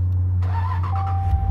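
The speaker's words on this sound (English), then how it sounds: "put your foot on the brake and then push that start engine button" A 2019 Ram 1500 Big Horn 4X4 pickup fires up from a push-button start, a steady low engine hum settling in close by with no talking.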